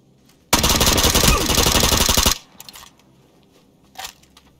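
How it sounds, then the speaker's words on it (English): A Vector submachine gun in the video game PUBG sprays one long, loud burst of rapid automatic fire lasting nearly two seconds, followed by a few scattered clicks and a short clatter near the end. "I sprayed him with my Vector."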